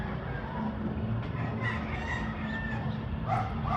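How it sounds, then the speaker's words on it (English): Roosters crowing in a lakeside neighborhood of Chapala, Mexico, with drawn-out calls rising over a dense backdrop of clucking fowl and barking dogs, moderately distant and continuous, with no talk. "there's roosters and dogs"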